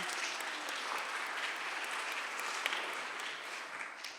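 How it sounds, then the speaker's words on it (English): An audience at a morning showcase event applauds in a steady, even wash of clapping that sounds fairly distant and soft and fades slightly near the end. "let's give Cricky a round of applause for her opening remarks this morning."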